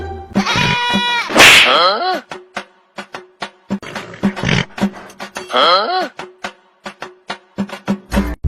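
A goat at a Bengali village sale bleats repeatedly and loudly up close, several wavering calls spread across the clip, with people talking in between and around the cries.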